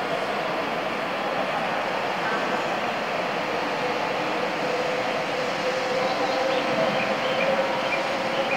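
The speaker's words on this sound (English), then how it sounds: "oh, here comes the train." A train pulls into a Japanese station at Omiya, a steady low rumble and rolling rail noise that holds evenly throughout, moderately distant, with faint voices of people on the platform.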